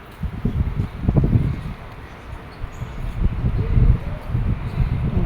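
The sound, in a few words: wind blowing outdoors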